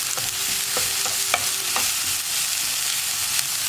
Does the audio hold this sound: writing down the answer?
no